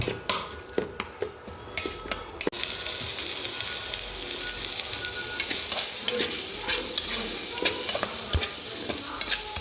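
Ground coriander, cumin and black pepper paste fries in hot oil for a pabda fish curry, a steady loud sizzle after a few early clicks of a spoon against the pan, close up with no speech.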